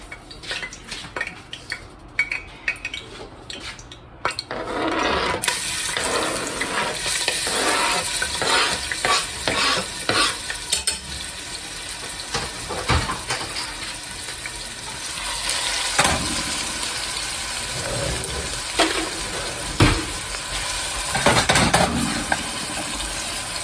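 Onions frying in hot oil while being stirred, giving a loud, steady sizzle with frequent scraping and clinking of a utensil against the pan, close up and without speech.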